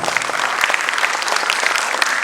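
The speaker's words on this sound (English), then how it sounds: "Claps should go on and on." Audience applause following a dance performance at a classical dance festival, a loud, busy patter of many hands clapping continuously with scattered sharper claps throughout.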